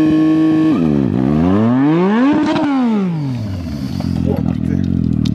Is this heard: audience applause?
no